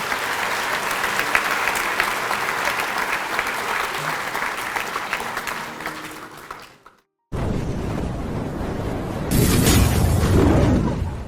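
A school audience at a Grade 8 blazer ceremony applauds in a loud, sustained burst of clapping. It fades out and cuts off, then returns with a fresh wave that swells louder near the end.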